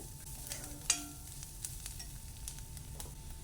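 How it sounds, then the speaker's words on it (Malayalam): Coriander powder and cumin are sautéed in a pan for a kidney bean curry, giving a faint, steady sizzle with a sharp spoon scrape and a few light stirring taps. "അതിൻ്റെ പച്ചമണം മാറുന്നവരെ വഴറ്റി കൊടുക്കുക."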